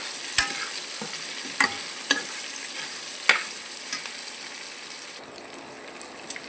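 Tomatoes sautéing with rock salt in a hot pan, a steady crackling sizzle with a few sharp stir scrapes and pops, close and fairly loud, easing slightly near the end.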